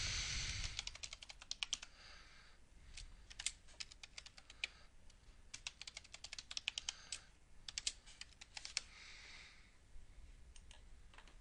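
A password is typed on a computer keyboard in quick bursts of soft key clicks separated by short pauses, faint and close against a quiet room hiss.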